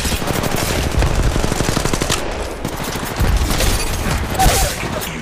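Rapid automatic gunfire from the mobile shooter game Apex Legends Mobile crackles in dense bursts, loud and close, with brief pauses between volleys.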